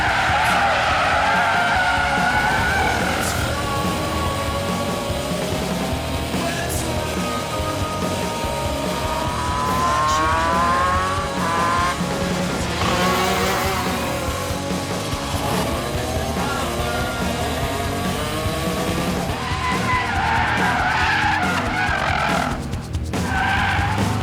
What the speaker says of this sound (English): he busted out the WRX onto the track once everybody left. Got a few laps in, made some drift.